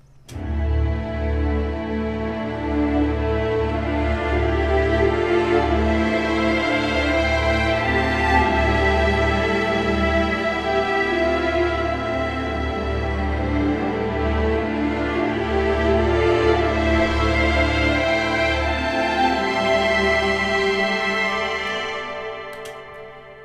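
An orchestral string passage with layered, overlapping melodic lines that enter one after another, sustained and full throughout before fading at the end.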